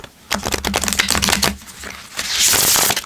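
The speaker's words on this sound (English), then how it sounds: "That shuffles pretty nicely, actually." A rapid flurry of matte-finish tarot cards riffling and snapping together up close, a few bursts in quick succession, then a softer hiss of handling.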